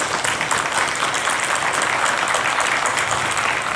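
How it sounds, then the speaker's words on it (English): Sustained audience applause at a mayoral candidates' forum in West Shreveport, a dense steady wash of clapping from many hands, loud and even throughout with no voices over it. "Let's give all of our candidates a round of applause."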